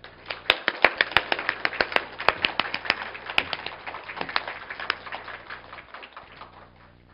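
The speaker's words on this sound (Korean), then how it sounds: "은혜 주신 하나님께 감사하다고 박수 한번 칠까요?" A church congregation claps during a Sunday morning worship service, a loose, fairly quiet patter of many hands that starts with a few sharp claps, thickens and then slowly thins out as it fades.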